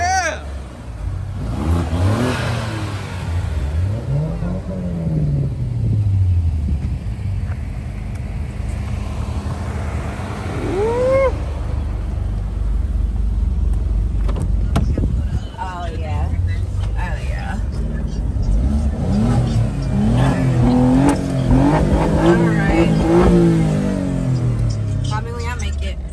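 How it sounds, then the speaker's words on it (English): An Alfa Romeo car engine rumbles and revs up and down repeatedly, rising and falling in pitch, with people talking over it throughout. "Start your engines."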